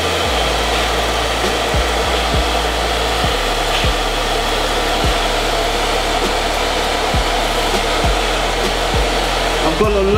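A hair dryer runs steadily on low heat at medium power while hair is styled, a close, continuous airflow hum with faint rubbing and brushing of hair and product throughout.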